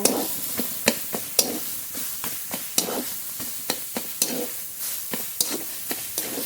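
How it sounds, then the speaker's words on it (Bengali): Stem greens (data shak) fried in mustard oil in a pan, with steady sizzling and a regular series of sharp scraping stirs close by, no voices. "আর একটু সর্ষের তেল দেবো শাক এবার এইভাবে ছেঁচো করে ভালো করে ভেজে নেব"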